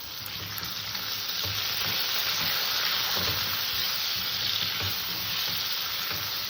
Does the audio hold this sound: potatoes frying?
yes